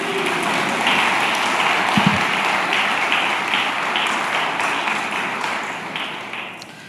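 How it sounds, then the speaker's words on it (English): Audience clapping for a presenter at a disclosure conference, a continuous patter of many hands at moderate loudness lasting throughout, with a brief low thump near the middle. "A round of applause for Kathy, please."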